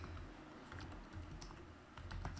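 Rapid, steady keystrokes on a computer keyboard as code is typed for an AngularJS and Firebase authentication app, close and clear with no talking.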